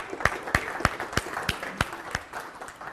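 Slow, evenly spaced hand claps, about eight in a row, sharp and fairly close, with a faint background hiss and no talking.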